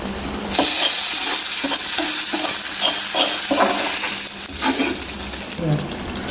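Hot tempering hits a chicken curry with a sudden loud, sustained sizzle that crackles steadily with stirring clatter, then eases slightly toward the end.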